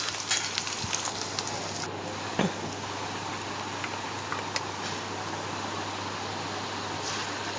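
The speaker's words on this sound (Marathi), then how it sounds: "ते तळून घेणार आहे व्यवस्थित, खूप मस्त तळून घेणार आहे" Onion and ground masala paste frying in a pan for an egg fry, a steady, close sizzle that runs throughout with a few faint clinks on top.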